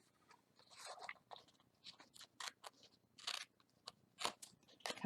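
Scissors snip through decorated paper for a gift bag purse, a quiet sequence of several crisp crunchy cuts in irregular bursts, close up with no talking.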